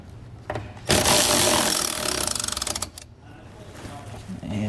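A 9/16 wrench works a rusty nut on a trailer crossmember beneath a 2014 Jayco Pinnacle fifth wheel: a dense metallic scraping and rasping burst of about two seconds, ending in rapid ratchet-like clicks, then quieter handling noises.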